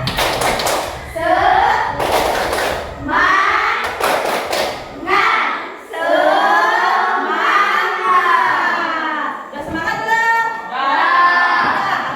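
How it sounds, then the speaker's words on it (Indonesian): Children perform the tepuk semangat spirit clapping chant, sharp loud claps in quick bursts alternating with their chanted voices, close and lively, with an adult voice leading. "Biar semangat kita lakukan tepuk semangat."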